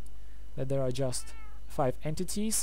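A cat in Minecraft meows several times in quick succession, clear and fairly close, mixed with someone talking over a steady low hum.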